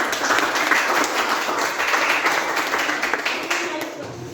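Classroom audience applause follows a group presentation, dense steady clapping from many hands filling the room, close and fairly loud, tapering slightly at the end.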